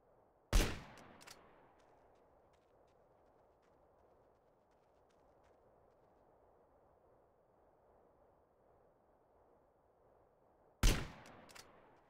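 Two sharp gunshots crack out in Grand Theft Auto San Andreas, one near the start and one near the end, each loud and close with a short echoing tail, separated by a long stretch of quiet ambient hum.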